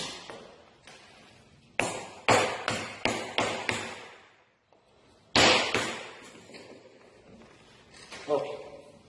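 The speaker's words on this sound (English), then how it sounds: "Just a little bit hammer it from here, hammer it from here." Hammer blows on a wooden cross-halving joint being knocked together during woodworking assembly, a run of sharp close taps in two bursts with brief pauses, under spoken instruction.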